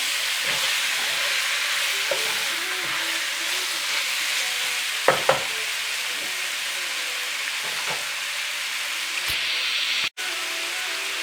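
Shrimp sizzle steadily in a hot pan over medium heat while being cooked for shrimp scampi, a continuous bright frying hiss with a few stirring scrapes and clicks, close and fairly loud, no talking.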